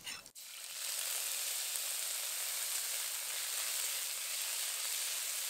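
Dried red chillies, a bay leaf, panch phoron, asafoetida and ginger paste fry in a pan for shukto, opening with a sudden burst and settling into a steady, bright sizzling hiss.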